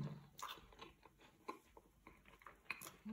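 Several crisp crunching bites into a frozen pizza with cream cheese, and chewing noises, close and quiet, arriving in irregular bursts with no talking.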